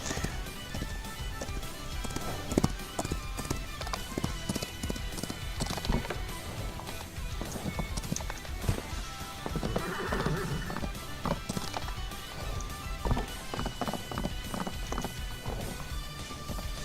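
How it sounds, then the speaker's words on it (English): Horse hooves clip-clop at a steady galloping rhythm with whinnies and neighs mixed in, close and continuous, in the survival video game HEAT, over a busy game soundscape. "you've got your horse"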